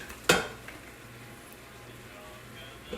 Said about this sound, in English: we're just going to add that to this, and we just want to stir that around